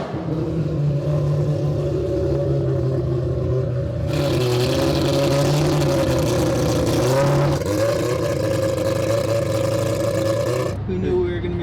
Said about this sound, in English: Who knew we were going to be riding out in the 4-rotor?